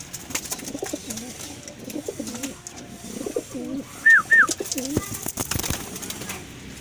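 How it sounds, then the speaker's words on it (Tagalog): Racing pigeons at a club training loft coo repeatedly in low, throaty rolls, with a couple of brighter chirps among them and ambient outdoor noise. "andyan na nga yung tatlong ibon natin, yung anak ni Metro, tapos yung isang ampon natin"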